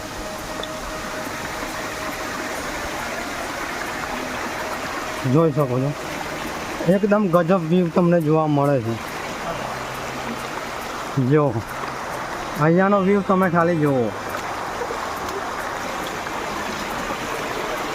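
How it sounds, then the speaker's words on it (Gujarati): Steady broadband rush of stream water fed by the Khuniya Mahadev waterfall in the Pavagadh forest, continuous throughout, with someone talking over it in several bursts. "જે પાણી આવે છે મિત્રો એ ધોધનું પાણી આવે છે"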